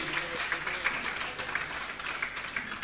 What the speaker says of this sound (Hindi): इनके लिए जोरदार ताली बजाकर इनका सम्मान करें।